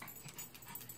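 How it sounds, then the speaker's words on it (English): A small therapy dog yips and whimpers in short, faint, excited bursts at close range, with a soft background hiss and no speech. "This is my friend, my little therapy dog"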